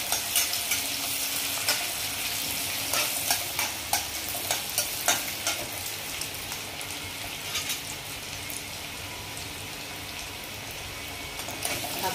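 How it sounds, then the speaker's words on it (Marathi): Onion sautéing in a pan, with a continuous close sizzle broken by repeated scrapes of stirring that ease off later on. "आता हे कांदा छान परतून घ्यायचा आहे"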